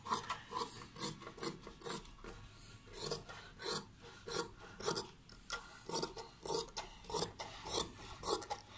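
Shirt collar fabric being cut, heard as a steady run of close, rhythmic rasping snips, roughly two per second, with no talking.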